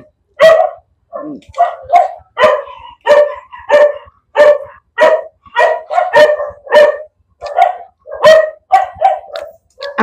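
A pet dog barks loudly and steadily at close range, about twenty sharp barks in an even rhythm with a few high yips mixed in.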